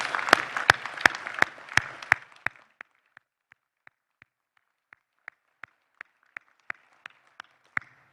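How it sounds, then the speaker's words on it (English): Applause from an audience at a Boy Scouts Friends of Scouting celebration luncheon, a dense burst of clapping that thins after about two seconds into scattered, sparse individual claps. "How about a round of applause for our young scouts?"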